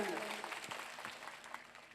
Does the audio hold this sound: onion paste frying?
no